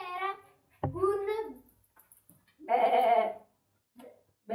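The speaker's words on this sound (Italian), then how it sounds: "belare" Sheep bleating in two or three drawn-out, wavering calls, close and fairly loud, separated by short pauses with some faint background sounds in between.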